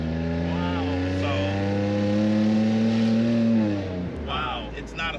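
Supercharged Toyota Sienna minivan engine accelerating hard, a loud rising drone with steadily climbing pitch that drops off sharply at a gear change, with people talking over it near the end.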